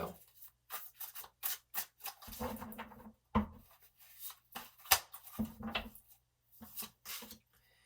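Tarot cards shuffled and pulled one by one for a spread, giving intermittent close papery slides and snaps with a few soft thuds on a surface, moderately loud with brief gaps and no talk.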